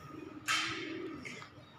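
A pigeon gives a soft, fairly faint coo, one rolling call followed by a shorter second note, heard alone against quiet background.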